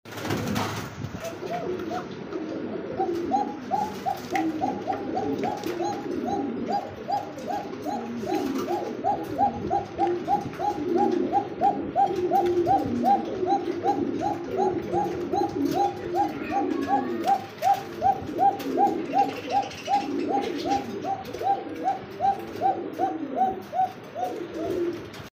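Lahori pigeons held for sale coo in a steady, rhythmic run of repeated low calls over a busy background murmur, carrying on for most of the stretch.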